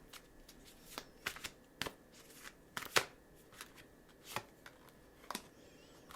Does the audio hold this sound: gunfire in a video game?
no